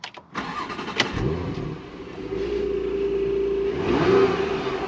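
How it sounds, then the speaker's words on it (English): A Porsche Macan S with a 3.0 V6 and sports exhaust cranks and fires up close by, then a loud rev swells and settles into a steady, throaty idle that rises again near the end. "Let me just start it up"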